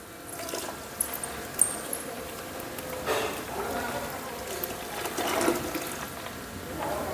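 Desi cow's milk goes into a simmering herbal medicine mixture, making a soft, faint liquid pour and splash in a couple of short bursts over a low, steady background.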